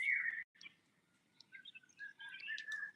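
Birds sing outdoors in a garden setting, one clear whistled phrase at first followed by a scatter of chirps and tweets, some near and some farther off, with a faint low hum underneath.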